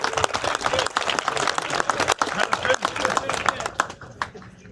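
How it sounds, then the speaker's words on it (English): Applause and clapping from an audience at a drivers' meeting for the 24 Hours of Appalachia endurance event, a dense, steady patter of many hands with voices talking and calling out throughout. "Let's give this guy a big round of applause"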